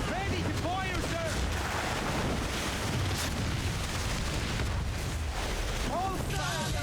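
Ship cannons boom repeatedly during a naval battle in Assassin's Creed 4 Black Flag, a dense, continuous roar of blasts and rumble with shouting voices layered over it.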